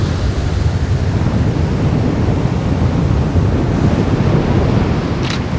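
Steady wind gusting across an open seaside spot at the Bay of Fires in Tasmania, a loud continuous rush buffeting the microphone with surf mixed in, no voices.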